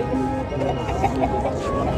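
Chickens cluck and chatter close by at a busy Sunday bird market in Lahore, loud overlapping calls over a dense background of other birds and crowd murmur.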